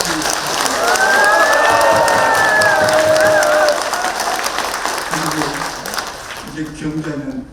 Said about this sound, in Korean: 정말로 힘내게 뜨거운 박수로 다시 격려해 주시기